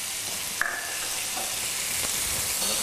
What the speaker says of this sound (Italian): facciamo leggermente rosolare il tofu. Ecco, sentite come sfrigola.